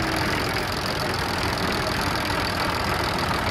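Vintage tractors pull away on a road run, a steady throbbing engine rumble that is loud and close, continuous without pause and with no voices.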